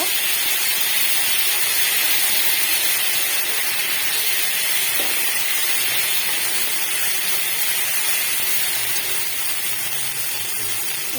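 Green chili paste sizzling in hot oil as it is stirred for a fish chorchori, a loud, steady, dense hiss that continues without a break; no voices.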